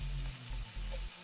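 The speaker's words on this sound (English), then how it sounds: "It's sizzling very nicely in the pan." Ackee and saltfish sizzle and crackle in a hot pan, a close, steady frying hiss with a pulsing low hum underneath.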